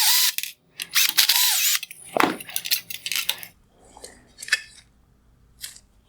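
Phillips head screws being worked loose from the lens holder of a 2016-2018 Lexus RX350 LED headlight, with close, irregular clicks, metallic scrapes and brief tool rattles, some loud bursts, then quieter handling toward the end.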